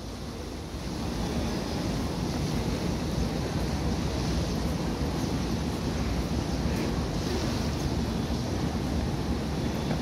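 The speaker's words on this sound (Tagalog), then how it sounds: "Ganda ng alon ng tubig." Water waves churn and wash steadily at the Star Ferry pier in Hong Kong as a ferry manoeuvres to dock, a continuous loud broadband surge with wind noise on the microphone and no talk.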